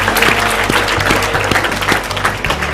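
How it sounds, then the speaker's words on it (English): An audience at a Let's Read! Let's Move! event claps in a brisk, sustained round, with low sustained music notes playing underneath the clapping. "Please give another round of applause for LeVar and Laura."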